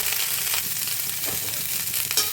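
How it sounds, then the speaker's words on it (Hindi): Cauliflower florets sizzle and fry in a hot pan, a dense steady crackle up close with a few soft stirring scrapes and no talk. "जिस तरह से आप सोयाबीन भूनते हैं उसी तरह से इस गोभी को भी भूनना है"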